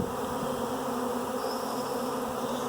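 Honeybees fan their wings at an old hive, producing a dense, steady buzzing drone that is close and loud throughout without pause.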